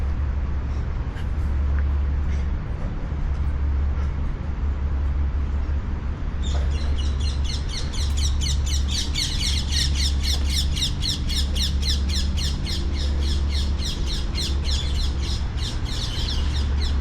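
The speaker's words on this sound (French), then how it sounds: "Vous avez peut-être entendu des oiseaux piailler assez fort. Ce sont des perruches." Parakeets squawk loudly along the Seine riverside in Paris. Rapid, repeated shrill calls burst out midway and continue in quick pulses, over a steady background rumble of city traffic.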